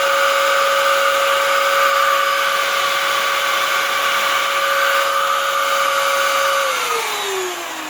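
A Dyson DC07 vacuum cleaner runs with a loud, steady motor whine and airflow roar, close by, then its pitch drops as it starts winding down.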